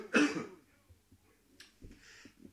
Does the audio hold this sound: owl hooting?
no